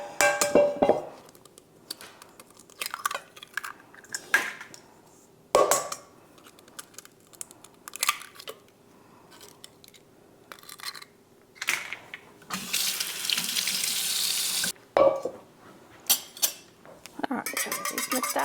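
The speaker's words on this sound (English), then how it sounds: "let's get the eggs cracked and mixed up" Eggs cracked against a bowl and beaten with a utensil during home cooking from the pantry, giving repeated light taps, clinks and scraping whisk strokes, with a longer busy stretch of rapid beating near the end and no talking.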